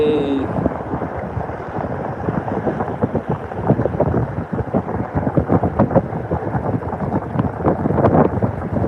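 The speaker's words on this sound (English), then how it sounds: "It's windy." Strong wind roars and buffets the microphone continuously, a dense rumbling gust noise throughout.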